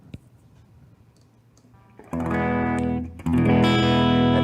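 Electric guitar played with a clean tone, guitar volume rolled down, during a Wren and Cuff fuzz pedal demonstration: after a near-silent start, a chord rings out loud and sustained, then a second strum follows about a second later.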